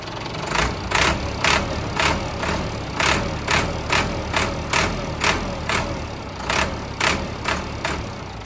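A Massey Ferguson 385 tractor diesel engine idling steadily nearby, with a regular thumping pulse about once or twice a second and no voices.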